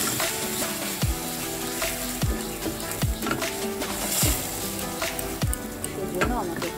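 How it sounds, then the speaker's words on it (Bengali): Red and Kashmiri chili powders frying in a pan with a little water, a continuous sizzle broken by regular scraping strokes of a stirring spoon about once a second, close and clear, without talking. "সেজন্য আমাকে একটু জল দিয়ে এটাকে খুব ভালো করে ভেজে নিতে হবে।"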